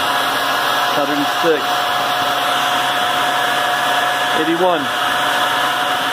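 A high-speed generator spun by a Tesla turbine gives a steady, loud whine with a layered tonal hum throughout, while a voice counts numbers over it.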